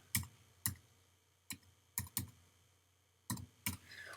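Quiet, sparse keystrokes tap on a computer keyboard, about eight clicks in irregular rhythm, close by in an otherwise silent room.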